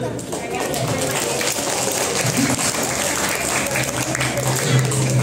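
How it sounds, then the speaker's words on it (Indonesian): A crowd of elementary school students claps steadily, a dense patter of hands that stays even throughout, with some voices mixed in. "Tepuk tangan."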